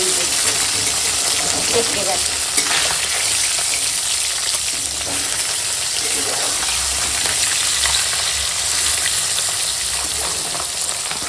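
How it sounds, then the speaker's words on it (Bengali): Fish pieces fry in hot oil in a pan, a loud, steady close sizzle that continues unbroken for the whole stretch, with occasional stirring and no talking. "দেখো এখন মাছগুলো ভাজা হয়ে গেছে"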